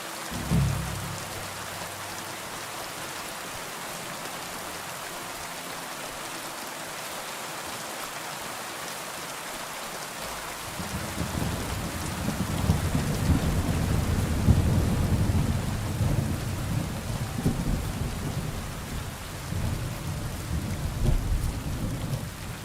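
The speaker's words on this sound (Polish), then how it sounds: "Jest ten deszcz, nic nie widać ogólnie, nie?" Rain falls steadily in a thunderstorm in the video game Kingdom Come: Deliverance II, with a deep rolling rumble of thunder swelling partway through and lingering under the constant downpour.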